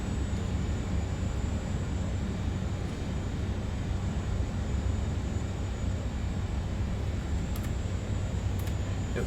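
An Airbus A400M taxiing off the runway in a flight simulator, heard as a steady, moderately quiet turboprop engine drone with constant broadband rumble throughout.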